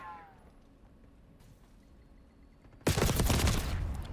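A burst of rapid automatic gunfire from a Krig-C rifle in a battle royale video game erupts loud and sustained after a few quiet seconds of faint game ambience.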